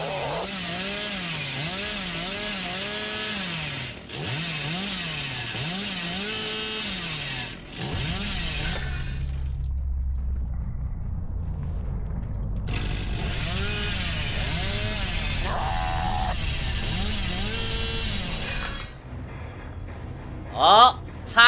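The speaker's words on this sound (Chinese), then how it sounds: "还好我电锯跟的速度够快啊！" A killer's chainsaw in the Dead by Daylight video game revs with a steady buzzing drone through most of the clip, under someone talking loudly and excitedly.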